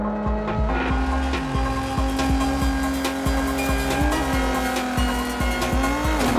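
A race car engine roars at sustained high revs in the Onrush racing game, loud and constant with a steady whining drone, punctuated by tire squeals and brief shifts in pitch.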